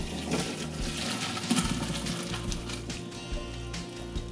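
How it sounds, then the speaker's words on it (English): Hot water from boiled pasta poured off through a strainer in a home kitchen, a steady soft splashing gush that runs throughout at low volume, no voices. "So you're going to strain it right away."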